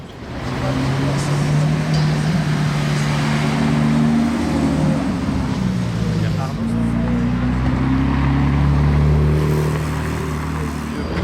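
A dark-grey Porsche Carrera GT's engine drones loud and steady, echoing between buildings along the streets of Monaco, with voices talking over it.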